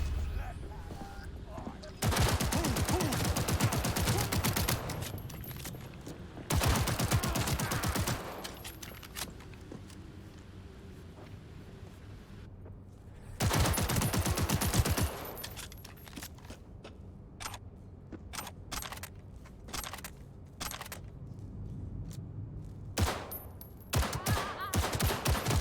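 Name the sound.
shotgun gunfire in video game Cyberpunk 2077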